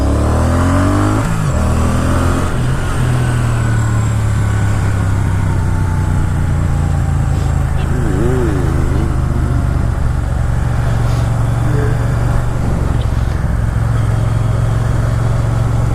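A 2016 Harley-Davidson Sportster 1200cc motorcycle, engine rumbling loud and close, revving and pulling steadily with rising and falling pitch throughout, no talk.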